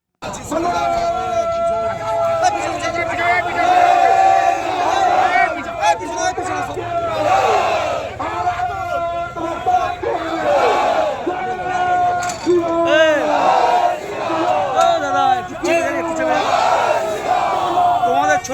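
Protesters at a BJP march and road blockade in Malda, where burning tires blocked the post office crossing, chant slogans in loud rhythmic unison, a massed crowd of voices rising and falling in repeated waves.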